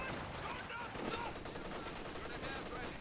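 Small arms gunfire crackles through a Company of Heroes 2 battle, a dense continuous clatter of rifle and machine-gun shots with a faint voice mixed in beneath the fire.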